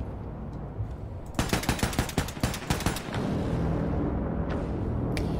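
Rapid bursts of gunfire in Wolfenstein 2: The New Colossus, a string of about a dozen sharp close shots fired at enemies in quick succession, followed by a steady low background hum.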